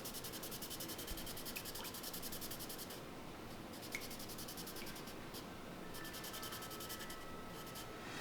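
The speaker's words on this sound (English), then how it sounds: "I'm going to sand the inside of the cane" Wet sandpaper rubbed over the inside of bassoon reed cane gives a steady, close scratchy rasp with regular back-and-forth strokes that pause briefly and resume.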